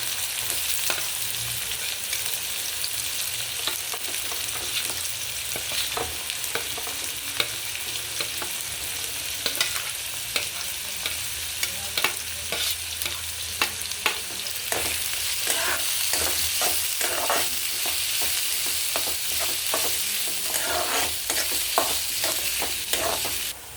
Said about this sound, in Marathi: लसूण चांगलं ब्राऊन झालेलं आहे तेलामध्ये। आता आपण कांदा टाकूया। कांदा पण चांगला कलर चेंज होतोपर्यंत परतायचा आहे